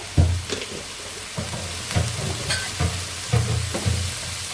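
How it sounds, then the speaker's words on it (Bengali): Fish frying in spice masala in a pan, with a continuous sizzle and a few soft, low thuds and scrapes of stirring at irregular intervals, close by and without talking. "আমি মশলার সঙ্গে মাছগুলো কষিয়ে নেব"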